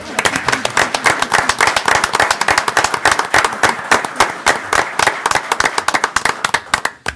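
Audience at a Caldwell County commissioners' meeting breaks into clapping after hearing about an EMS crew's CPR and AED rescue; dense, loud hand claps with sharp individual strikes, fading out at the end.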